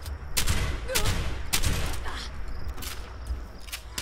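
Gunfire in the post-apocalyptic video game Fallout 76 sounds as a run of loud, sharp shots at fairly even intervals over a dense, noisy game soundscape.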